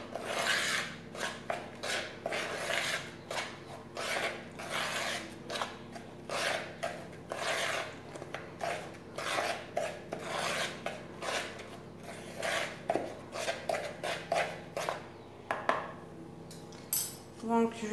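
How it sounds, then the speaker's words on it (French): Dry ingredients for cornes de gazelle are mixed in a bowl, making soft, repeated scraping and rubbing strokes in an uneven rhythm, close and fairly quiet. "je vais d'abord mélanger les ingrédients secs"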